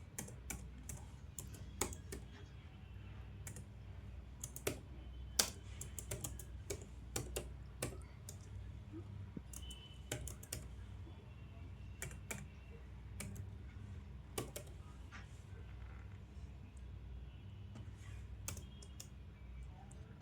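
Fingers type HTML code on a computer keyboard, producing a quiet, irregular stream of close key clicks and taps with brief pauses, continuing for about twenty seconds against a faint low hum.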